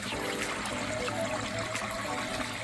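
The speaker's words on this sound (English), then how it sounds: "Water's flowing, whole thing. Water's flowing." Water pours over a small backyard pond waterfall after a leak repair, a continuous close splashing trickle and gurgle that stays steady from start to finish with no talk.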